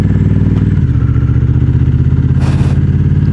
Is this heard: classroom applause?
no